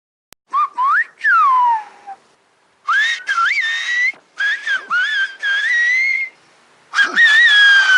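Whistled language of La Gomera, a series of loud, clear whistled phrases with gliding, rising and falling pitches, separated by short pauses, heard alone without speech.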